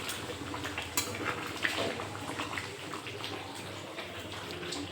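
Water poured into a curry pan with cashew and poppy seed paste, a continuous close splashing gush with a few small clinks, steady and fairly loud without speech.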